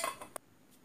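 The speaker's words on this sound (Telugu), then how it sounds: "మూతలు పెట్టేస్తాను" Steel lids set down on metal kitchen vessels holding fermented rice and curd: a couple of soft clinks, then one sharp metallic tap, quiet and close, followed by near silence.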